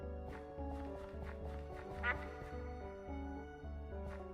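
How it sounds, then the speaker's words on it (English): A duck in the video game Minecraft quacks a few times with an echo, short sharp calls set over a steady layer of background game music. "That duck echoed so loud."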